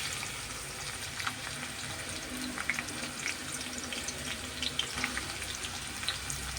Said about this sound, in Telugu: ఇప్పుడు ఉల్లిపాయ, పచ్చిమిరపకాయ ముక్కలు వేసేస్తున్నాను.